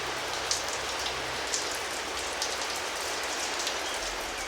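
Steady rain falls outdoors, a dense even hiss of drops striking surfaces around a covered porch, with a low rumble underneath and a few slightly louder drips standing out; no voices.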